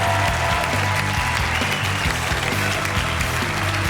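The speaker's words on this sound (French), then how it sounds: "Je vous demande d'applaudir comme il se doit" A television studio audience applauds a contestant as she is introduced on a French game show, producing a full, continuous wash of clapping that stays loud and even for the whole stretch.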